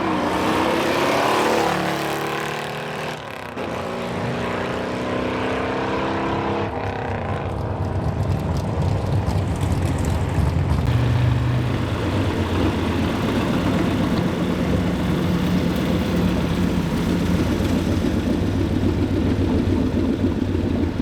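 A Dodge Dart V8 with a four-speed gearbox roars loudly on a nitrous-assisted drag strip run, the engine climbing through gear changes and holding a hard, sustained blare.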